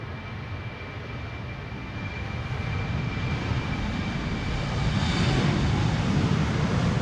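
A German Airways jet operating for KLM departs Amsterdam Schiphol for Aalborg, its engine rumble faint at first and slowly growing louder and fuller, with no voices.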